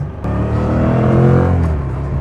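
A 2025 Yamaha MT-07 motorcycle engine in sport mode, still being run in, pulls steadily under throttle with a loud, close, rising drone and no talk over it.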